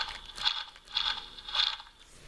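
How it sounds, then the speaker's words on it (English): The plastic arm-flapping mechanism of a Jurassic World Pteramimus toy figure gives three quick ratcheting clicks at a steady pace, close and fairly faint. "you take both of his legs right here, squeeze them together, and his arms flap"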